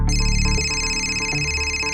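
A telephone rings inside a home, a steady electronic tone repeating in a quick warbling pattern over a low background hum, fairly loud and close, with no talk over it.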